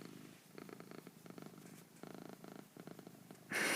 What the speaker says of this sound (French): mon chat est sur mes genoux et ronronne